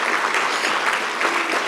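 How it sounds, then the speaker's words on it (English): An audience at the City Power Energy Indaba 2025 conference gives a round of applause, a thick, continuous wash of many hands clapping at a steady level throughout the short stretch. "Can we please give ourselves a round of applause for today?"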